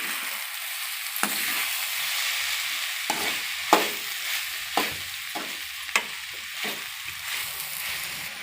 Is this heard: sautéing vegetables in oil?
yes